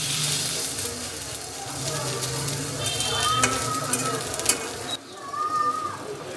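Small hand-shaped snack patties fry in hot oil in a pan, giving a continuous close sizzle with occasional stirring noises, while birds coo softly in the background.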